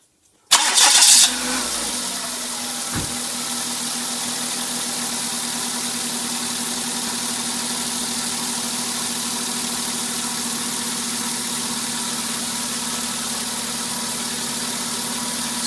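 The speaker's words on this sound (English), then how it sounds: "it's pretty safe to run the engine now" The engine of a Ford Laser KN/KQ or Mazda 323 BJ cranks briefly and catches, then settles into a steady, even idle with a constant hum that stays close and loud throughout, with no voices.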